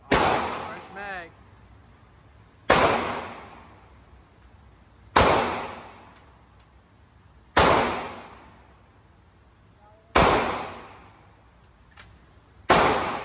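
Single gunshots ring out at an outdoor shooting range, six loud sharp reports spaced a couple of seconds apart, each trailing off in a fading echo, with quiet stretches between.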